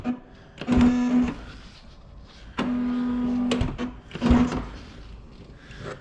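A Mercedes R350 CDI's door is handled: sharp mechanical clunks and rattles come in bursts along with a steady electric whine that starts and stops, close and fairly loud, with no talking.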